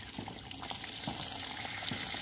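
Water runs steadily from a pipe onto a newly built house foundation, a continuous close splashing wash with faint thuds, no talk.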